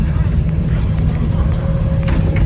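A long truck passes on a road beside a bus stop, producing a loud, continuous low engine rumble and road roar with some higher hissing on top.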